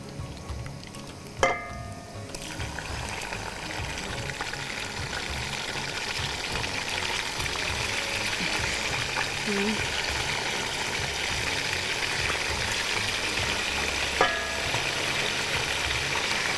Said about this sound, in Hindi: जब तक ये हमारा चिकन फ्राई होता है